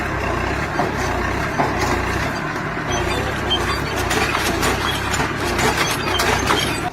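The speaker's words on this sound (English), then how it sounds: "A Massey Ferguson 265 versus one stubborn root system." A Massey Ferguson 265 tractor labours against a stubborn tree root, its diesel engine a loud, steady low rumble with heavy mechanical strain, close and without voices.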